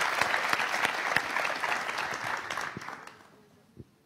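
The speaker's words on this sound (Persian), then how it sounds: "تشویق" A studio audience applauds on an Iranian TV comedy show, a dense, steady wash of clapping that tapers off and fades to near silence toward the end.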